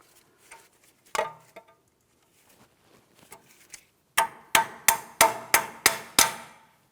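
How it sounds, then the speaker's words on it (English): A hammer peens over the outer tie rod end on a 2007-2014 GMC Sierra 2500 HD. Soft handling noises come first, then about seven sharp, ringing metallic blows land in a steady, close rhythm. "make sure you peen it over so there's no way the outer tie rod end can loosen up on you"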